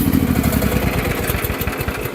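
A Chinese mini excavator's engine runs close and loud in a steady, rhythmic chug. It has been running over half an hour with the radiator working, and it continues throughout without shutting off.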